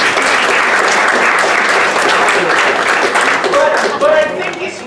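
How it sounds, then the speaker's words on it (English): Loud audience applause after an improv comedy scene in a pizza shop, close, dense clapping from the room that holds steady, then thins near the end as a few voices and whoops break through. "You can give him a round of applause for that."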